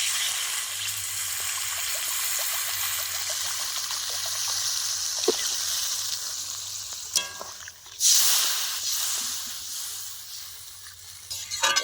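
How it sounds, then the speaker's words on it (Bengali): Water is poured into a pan of sizzling tilapia fish curry with tomatoes and potatoes, a steady frying hiss giving way to a brief rushing splash and bubbling near the end, with a few utensil knocks. "এখন আমি পরিমাণ মতো একটু জল দিয়ে দেবো।"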